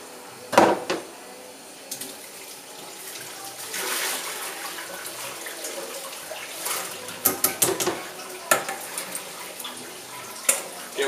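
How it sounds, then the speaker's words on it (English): Water runs steadily into a pan during a quick rinse, with scattered clinks and knocks of the pan against a sink over a continuous wash of flow. "And just give them a quick rinse"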